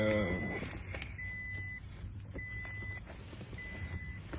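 Faint, steady electronic alarm beeps repeat at regular intervals over low background rumble and occasional clatter.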